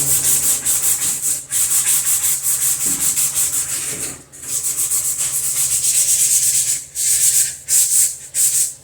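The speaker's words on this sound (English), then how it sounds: "I'm just going to give this a quick little sanding." Rhythmic rubbing strokes of sandpaper on a small model rocket part, repeated back and forth with brief pauses between passes.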